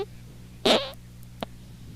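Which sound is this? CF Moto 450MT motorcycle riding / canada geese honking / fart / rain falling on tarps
fart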